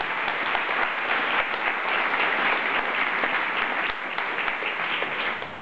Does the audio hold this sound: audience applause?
yes